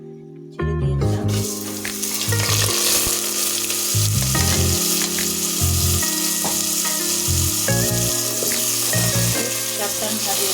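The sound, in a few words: washed rice frying in a pan for white pulao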